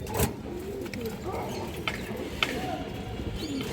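Several male and female pigeons coo softly nearby in low, wavering calls scattered across a few seconds, over light background noise.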